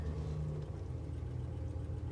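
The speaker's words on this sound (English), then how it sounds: "It's a slight exhaust leak." A Ford F350 Powerstroke truck with a slight exhaust leak idles close by, giving a steady, low, even rumble with no voices over it.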